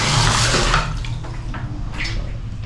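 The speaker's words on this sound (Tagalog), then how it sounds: "Lakas pa ng tubig, you know." Strong water gushing from a tap in a clean restroom at Unica Hija in Lobo, Batangas, loud and steady at first, then easing to a lighter continuous flow with no talking.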